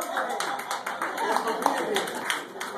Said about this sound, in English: Give all the presenters that's coming forward a big round of applause.